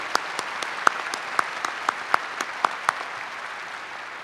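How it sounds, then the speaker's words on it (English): A university commencement audience applauds, a steady spread of clapping across the hall with distinct sharp claps from someone close by standing out at regular intervals. "Please join me in a round of applause."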